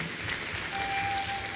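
Audience at a university inaugural lecture clapping in a steady, moderately loud round of applause that holds evenly throughout.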